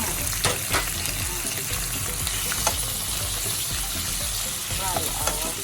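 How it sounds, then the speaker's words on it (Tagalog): Shrimp sizzling in a hot pan with golden-browned garlic and ginger, a steady close frying hiss with a few stirring clinks and scrapes throughout. "Fry our shrimp. Ano lang sa kasimple. Fry lang siya until mag-change yung kulay niya."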